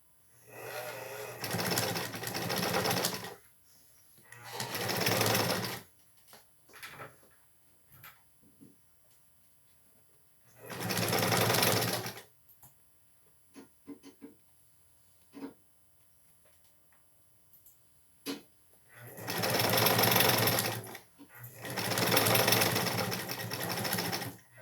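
Sewing machine stitching fabric in five separate runs of steady, close mechanical whirring, with quiet pauses between them filled by faint handling clicks and rustles.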